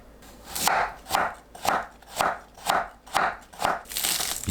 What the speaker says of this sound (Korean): 당근은 채 썰어 준비합니다.